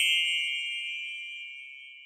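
A single bright notification bell ding rings out clearly with no other sound, then slowly decays over about two seconds into a sustained shimmering tone.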